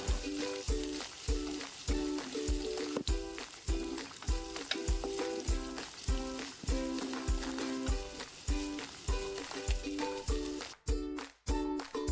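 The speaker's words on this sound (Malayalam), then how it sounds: "ചെറുള്ളി ഇട്ട് നല്ലപോലെ വഴറ്റി കൊടുക്കുകയാണ് കേട്ടോ" Shallots sautéing in hot oil in a pan for a Kerala-style mackerel fish curry, giving a steady loud sizzle with regular stirring scrapes throughout, briefly dipping near the end.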